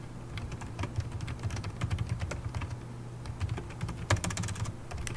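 Steady clicking on a computer keyboard, with rapid keystrokes close to the mic over a low electrical hum and a slightly louder cluster of clicks near the end, with no voices.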